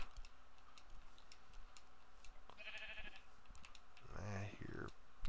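A Minecraft sheep bleats a couple of times near the end, over faint clicking and a steady background hum.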